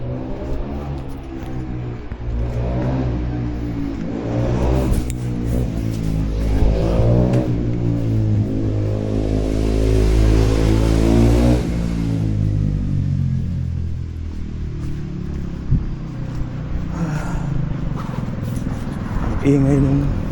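A motorbike rides past on a street on a cool morning. Its engine hum swells to a loud, close rumble near the middle, then fades as it moves away over a steady background drone.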